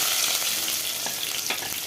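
Mustard seeds, cumin and onions fry in hot oil with a close, steady crackling sizzle throughout a brief moment.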